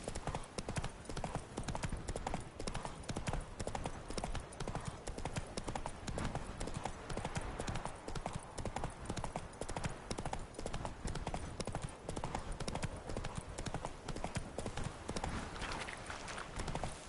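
Horse hooves clip-clop steadily and continuously in The Witcher 3, a busy, dense trotting rhythm filling the whole stretch with faint ambient game sound beneath and no clear voice.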